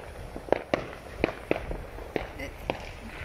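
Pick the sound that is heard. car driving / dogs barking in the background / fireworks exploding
fireworks exploding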